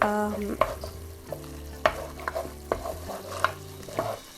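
Coconut milk and curry paste stir-fried in a pan for Thai beef panang: a spatula scrapes and clatters in irregular strokes over a soft sizzle, close and moderately quiet.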